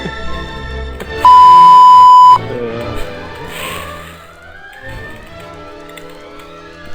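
A single loud, pure censor beep lasting about a second, cutting sharply over background sounds and movement noise.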